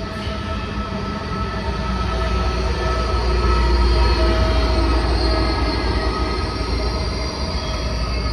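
A regional express train pulls into a station at about 60 km/h on a Tuscan line between Pistoia and Empoli, a loud sustained rumble of wheels and wagons with steady rail noise and a faint squeal throughout.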